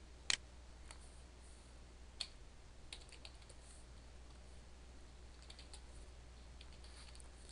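Keys tapped on a computer keyboard while entering a password, a sparse run of light, quiet clicks at irregular intervals over steady low background hum.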